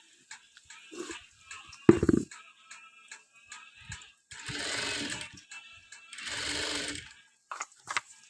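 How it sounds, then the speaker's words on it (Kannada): Sewing machine stitching a school uniform collar from the inside, two sustained bursts of motor whir separated by scattered clicks, taps and a brief voice, fairly quiet overall. "ಒಳಗಿನ ಬಾಜುವಿಂದ ನಾವು ಅದನ್ನು ಸ್ಟಿಚ್ ಮಾಡ್ಕೋಬೇಕು ಉಲ್ಟಾ ಸೈಡಿಂದ."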